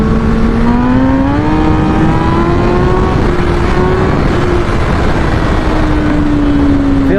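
A 2008–2010 Kawasaki ZX10R sport motorcycle engine under way on a ride, its loud steady drone rising in pitch through the revs with no speech, continuous and close throughout.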